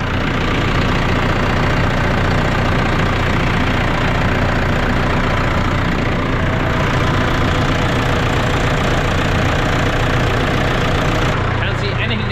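Diesel engine of a Massey Ferguson 5460 tractor with a fuel leak, running steadily and loudly with a dense, continuous rumble and rattle throughout.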